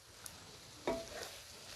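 Chicken pasta ingredients are stirred and fried in a pan over high heat, giving a steady quiet sizzle with one sharper scrape of the spoon partway through.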